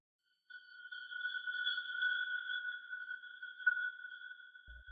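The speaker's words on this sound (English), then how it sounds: "The sound of a crystal cave." An AI-generated crystal cave effect: a steady, faint, glassy ringing hum of two sustained tones that hangs alone and barely changes, with a soft low thump near the end.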